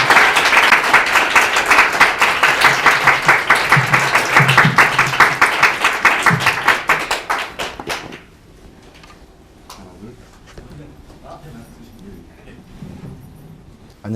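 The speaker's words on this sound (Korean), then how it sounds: "박수 드리겠습니다." A lecture audience at a university wine talk gives a guest a loud round of rhythmic clapping for about eight seconds, then it cuts off, leaving quiet room sounds and faint voices.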